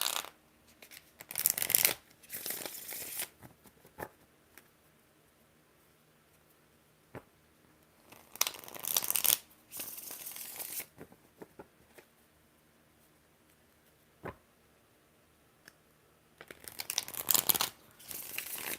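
A tarot card deck being shuffled, in three separate quick riffling bursts spread apart by quiet pauses, close and fairly crisp, with no talking.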